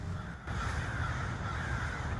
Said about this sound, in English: I seriously don't think I've ever seen that many crows before.